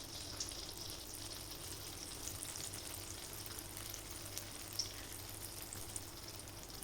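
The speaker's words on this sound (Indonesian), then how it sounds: "saya akan memberi contoh cara menggoreng cucur lagi ya" Palm sugar cake batter (kue cucur) fries in hot oil, a quiet, steady sizzle and crackle with a few faint pops, close and continuous, without talk.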